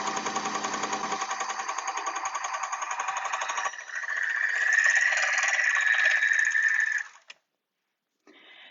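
An overlocker runs a test seam with a shortened stitch length, a rapid mechanical rattling hum. The pitch shifts partway through, then the machine stops abruptly near the end with a brief noise after a pause.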